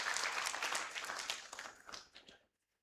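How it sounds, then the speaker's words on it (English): Audience clapping in a conference hall at an annual registrars' and magistrates' conference, a dense, steady patter that thins out and stops abruptly after about two and a half seconds, leaving silence. "Clap for yourselves."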